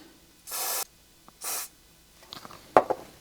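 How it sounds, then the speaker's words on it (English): Two short hissing bursts from a can of DeoxIT contact cleaner sprayed onto electrical contacts, each under a second, followed by light clicks and handling noises. "When cleaning contacts, we just apply some spray here, just like this."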